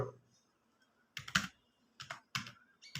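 Bursts of key presses on a computer keyboard while C program code is entered: four short clusters of crisp clicks separated by pauses, close and clear with no talk over them.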